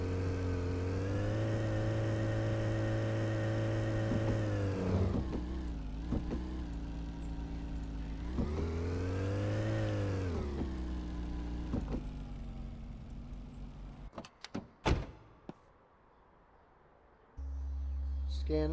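A car engine in Car Dealer Simulator revs up and settles twice in rising and falling sweeps, then cuts to a few sharp clunks and a quieter idle hum.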